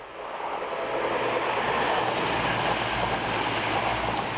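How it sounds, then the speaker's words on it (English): A train on the main line near the old Stonehouse station rumbles past and recedes into the distance, a steady loud roar of wheels on rail with faint squeals, holding strong throughout. "So the train you see just gone off into the distance"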